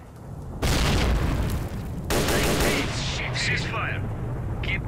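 F1 grenades detonating in S.T.A.L.K.E.R. Shadow of Chernobyl, two heavy close booms with a long rumbling decay, followed by gunfire and shouted voices in the background.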